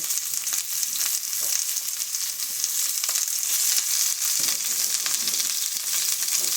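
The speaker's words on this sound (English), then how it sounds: "take our chopped onion, and we're going to put it directly into that skillet" Steady, crackling sizzle of chopped onion frying in hot oil, close and continuous, with a soft stir or scrape now and then.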